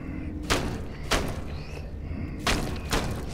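A monster repeatedly smashes meat in Little Nightmares, heavy wet thuds landing about four times at uneven intervals over a dull rumbling ambience.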